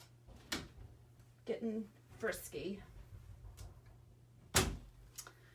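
A house door shuts with a sharp, close slam near the end, following scattered soft bumps and handling noises, while someone talks briefly before it.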